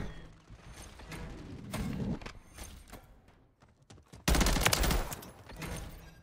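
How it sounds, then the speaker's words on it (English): Shotgun and automatic gunfire in Call of Duty: Modern Warfare 3 multiplayer, scattered mid-distance shots and bursts, then one loud close blast near the end with a dense volley after it. "That guy's using a freaking shotgun."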